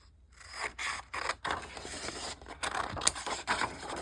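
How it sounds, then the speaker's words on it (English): Scissors snip through paper pieces for a junk journal, a run of short crisp cuts with brief pauses, close and fairly quiet with no talking. "I'm going to cut these out."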